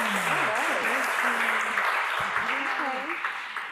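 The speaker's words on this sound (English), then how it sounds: "go ahead and clap your hands" Audience members clapping their hands at a ring shout and praise house celebration, a steady patter of applause under a speaking voice, tapering slightly toward the end.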